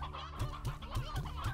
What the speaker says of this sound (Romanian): Ideea e că acum avem o zonă plină cu găini.